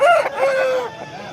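A rooster crows loudly and close at a Saturday hen market, one full drawn-out call that trails off, heard on its own without talk.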